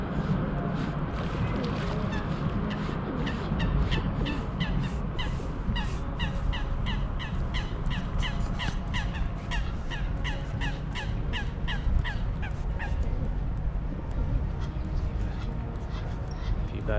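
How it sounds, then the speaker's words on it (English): Crows and other birds call repeatedly around the ducks of St James Park in London, sharp caws and honks standing out over a steady outdoor murmur of a busy park. "There's lots of different types of birds here, lots of ducks, different varieties."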